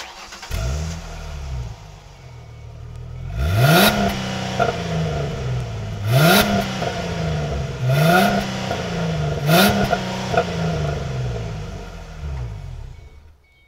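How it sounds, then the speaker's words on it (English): A V6 wide-body Ford Mustang convertible engine idles, then revs hard four times in quick succession, each rev rising and falling back to a steady idle, loud and close with no talk. "let's make you guys hear the sound of this Mustang"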